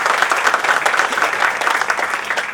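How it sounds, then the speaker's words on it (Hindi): A crowd at an Indian music evening gives loud, enthusiastic applause to welcome a Congress vice-president, the dense clapping close and steady with no voices over it. "बार जोरदार तालियां बजाकर उनका स्वागत करें।"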